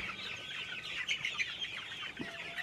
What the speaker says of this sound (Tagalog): Ito meron tayong darag nandito guys